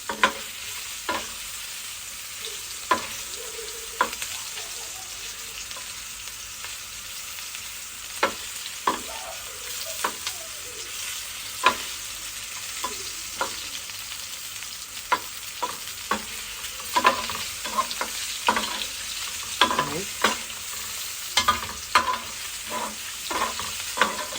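Kofta meatballs fry in a pan, a steady broadband sizzle running throughout with frequent sharp scrapes and clicks of turning and stirring, close and fairly loud, with no talk.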